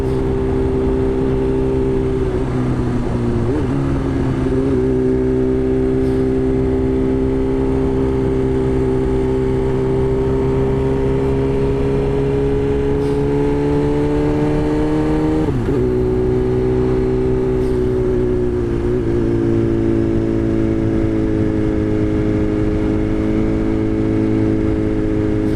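A BMW S1000RR sport motorcycle engine drones loudly and steadily while riding, holding a high cruising pitch with a few brief dips and rises as the rider shifts and rolls on the throttle, wind noise underneath.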